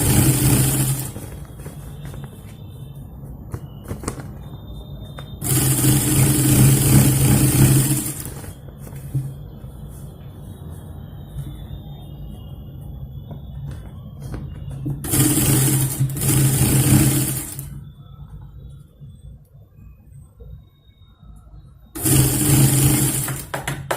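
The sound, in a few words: sewing machine stitching three layers of fabric together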